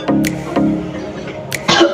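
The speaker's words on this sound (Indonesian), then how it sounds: "saya akan memberikan contoh batuk efektif" A demonstration of an effective coughing technique: two short coughs, then a third, harsher cough that comes close and fairly loud.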